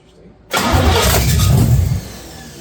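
An old car left to rot in a field cranks and catches after a short quiet moment, roaring up loud and close, then holding a rough, steady idle before dropping off near the end.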